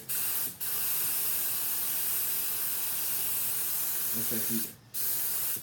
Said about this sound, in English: see if I can spray it out onto this cardboard